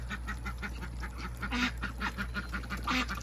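A group of young ducklings quack and peep continuously up close, their small rapid calls overlapping in a busy chatter over a steady low hum.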